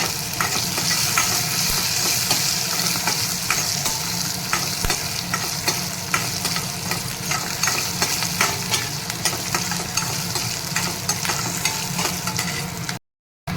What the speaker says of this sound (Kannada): ನೋಡಿ, ಮೆಣಸಿನ್ಕಾಯಿ ಸ್ವಲ್ಪ ಫ್ರೈ ಆಗಿದೆ